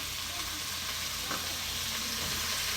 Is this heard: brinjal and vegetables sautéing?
yes